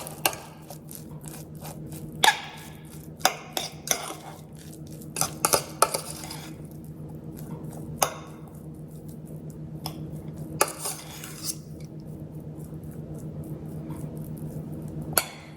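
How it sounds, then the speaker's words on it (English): A fork fluffing cooked rice in a pot, with repeated metallic clinks and scrapes against the pot over a steady low hum, and no voices. "You just want to take a fork and gently fluff it up."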